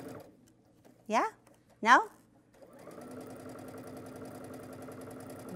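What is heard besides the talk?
sewing machine sewing a quarter inch seam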